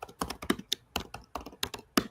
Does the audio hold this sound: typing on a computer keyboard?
yes